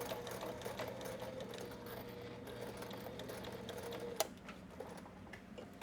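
A sewing machine stitching the side seams of a fabric beach tote bag with a 3/8 inch seam allowance, a steady close whirring hum with faint ticking, running continuously.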